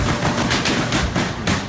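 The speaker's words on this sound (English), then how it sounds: "suddenly the gunfire drowns the music" Rapid gunfire erupts during an attack on a concert hall, a dense, continuous crackle of shots recorded from a distance and smeared with echo and crowd noise, loud and unbroken throughout.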